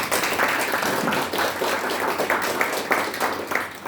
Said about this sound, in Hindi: बहुत बढ़िया सर के लिए एक बार जोरदार तालियां।